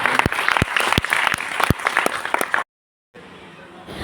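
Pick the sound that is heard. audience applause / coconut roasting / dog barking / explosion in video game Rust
audience applause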